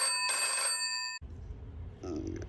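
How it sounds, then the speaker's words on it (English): A telephone bell rings with a bright, sustained electronic tone for just over a second, then cuts off into room noise and a voice answering. "Phone rings."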